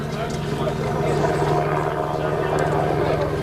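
Rotor drone of a rescue helicopter after a rally crash in the 2000 World Rally Championship near Bastia, Corsica, a steady low thrum heard throughout under narration.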